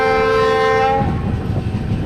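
Ranthambore Express passenger train sounding a long, loud horn blast for about a second as it enters Guda station beside salt pans, then a steady rumble of the train rolling along the rails.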